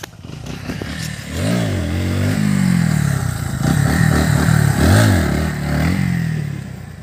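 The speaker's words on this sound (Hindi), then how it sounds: "मतलब व्हीली कर रहे हैं अभी" A motorcycle attempting wheelie stunts revs hard in repeated rising and falling swells, with close, loud engine surges and some mechanical clatter between the throttle blips.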